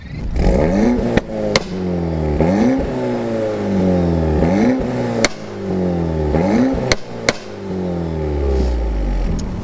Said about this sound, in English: were you revving it as high as it will rev?